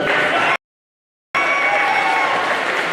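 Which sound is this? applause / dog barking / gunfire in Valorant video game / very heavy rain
applause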